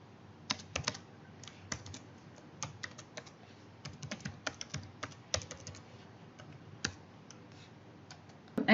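Computer keyboard keys tapped in quick irregular bursts as a password is entered, close and crisp clicks against a quiet room.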